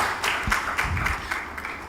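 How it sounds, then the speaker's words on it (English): Audience at a Nigeria-EU business forum gives a short burst of applause, a scattered patter of hand claps from a moderate distance that quickly thins out. "A round of applause for him."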